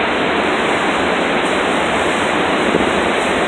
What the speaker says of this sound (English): The waves are strong.